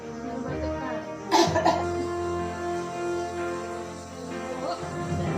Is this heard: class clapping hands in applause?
no